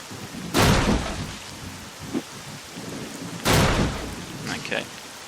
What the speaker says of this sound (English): Man, I wish this rain would stop falling.